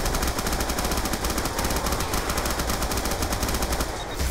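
A Tommy Gun in the Mob of the Dead video game fires in rapid continuous bursts, loud and close, rattling without pause for several seconds with only a brief dip near the end.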